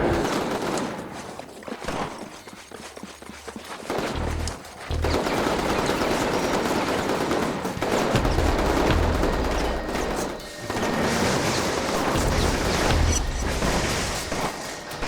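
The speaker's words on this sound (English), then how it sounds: "let's stop shooting at innocent people, please" Rapid bursts of automatic gunfire and shooting in the video game Infamous, loud and sustained with deep booming hits, dropping out briefly twice before resuming in dense volleys.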